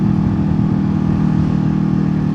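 A Honda CBR500R motorcycle engine drones loud and close in a steady, sustained rev with a deep rumbling tone and no voices over it.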